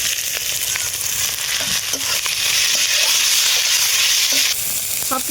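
Onions and tomatoes fry in a pan with ginger and garlic, giving a steady, close sizzle with occasional crackles and stirring scrapes throughout, and no voices.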